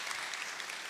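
Brief burst of audience applause in a lecture hall at a probability talk, dense and even, lasting under a second with no voices over it.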